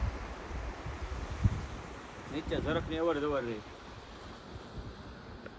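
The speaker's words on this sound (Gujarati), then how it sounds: "એકદમ ઠંડો ઠંડો પવન આવ્યા કરે." Cool wind blowing with sea waves washing below a ravine-cut coastal cliff near a Hanuman temple, a steady broadband rush of surf and gusts filling the scene while someone talks briefly in the middle.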